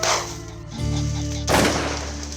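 Shotguns fire during a field hunt for rooster pheasants, two loud reports about a second apart, each booming then decaying into a ringing tail, with no talking.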